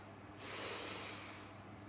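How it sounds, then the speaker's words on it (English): A single deep breath during guided meditation, drawn in and let out as a smooth, soft airy rush lasting about a second, close and clear against a quiet background. "Take a nice deep breath. Exhale completely."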